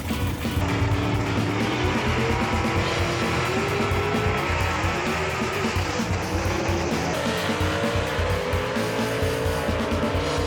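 Gasser drag race cars roar down the strip at Knoxville Dragway, with loud, continuous engine noise, rising revs and tire squeal throughout, no talk.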